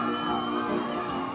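A crowd cheers and whoops continuously at a Tennessee Walking Horse championship show, a dense, steady roar of voices.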